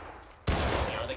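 Musket fire in the Civil War game War of Rights, set at Antietam: after a brief quiet lead-in, a loud, dense burst of overlapping shots erupts and rolls on as a sustained crackling volley.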